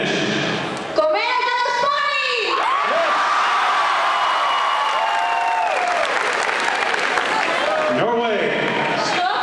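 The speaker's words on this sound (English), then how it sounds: "helped lead the crowd in a couple cheers in their native language" A high school pep rally crowd cheers and claps loudly, with whoops and a chant led in Spanish, voices rising in waves over continuous applause.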